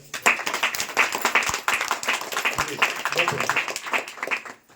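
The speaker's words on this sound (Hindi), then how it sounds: "मैं चाहूंगा कि सभी लोग एक बार तालियां बजाएं।" Audience clapping at a company gathering honoring a promotion, a loud burst of many hands that swells quickly, with voices mixed in, then fades out near the end.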